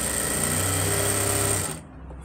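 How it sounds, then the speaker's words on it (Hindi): A sewing machine stitches a salwar belt with a rapid, steady mechanical rattle and hum close by, stopping abruptly near the end. "इसको बीच से मिलाकर हम इसमें सिलाई लगाएंगे"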